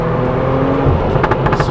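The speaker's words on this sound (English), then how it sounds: "Screaming, roaring power inside this." A Morgan Plus Six 3.0 roars loudly under hard acceleration, with a steady, dense engine drone that swells slightly toward the end.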